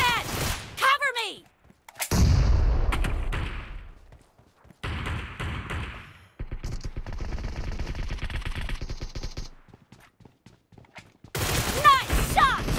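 Heavy automatic gunfire in PUBG on the Erangel map in a team deathmatch with a Groza rifle, loud rapid bursts in several long stretches separated by pauses, with brief game voice callouts.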